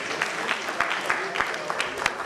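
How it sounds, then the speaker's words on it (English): Brief, soft applause from an audience at an engineering institute's manifesto launch event in Ghana, scattered claps over a low murmur of voices. "Please let's give our speaker so far a round of applause."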